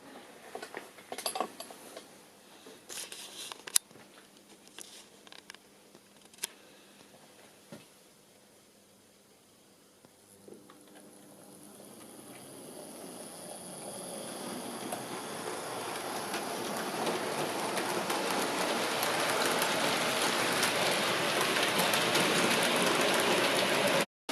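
Hornby tender-driven LNER A3 model locomotive in wartime black, hauling a mixed rake of coaches, sets off: a few faint clicks, then a steady whirring rumble that grows gradually louder over the second half, with no voices.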